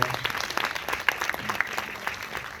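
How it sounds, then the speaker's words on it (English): Audience at a Q&A with the cast of the film Hello, Love, Again breaks into steady, close applause, dense clapping with a few sharper individual claps and faint whoops over roughly two and a half seconds. "Let's give a round of applause again."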